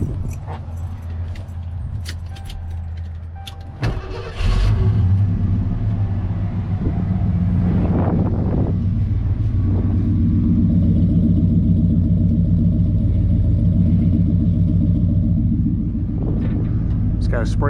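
A lifted 1990 Ford F150 XLT Lariat 4x4 with a modified exhaust: keys jangle, then the engine cranks and catches, settling into a deep, steady rumbling idle close by, with a brief rev near the end.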